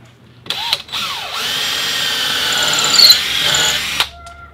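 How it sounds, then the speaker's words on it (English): A power drill with a countersink bit whines into a wooden boat frame in short bursts, then runs steadily with a high squealing tone before stopping abruptly. "So we take our drill and our countersink"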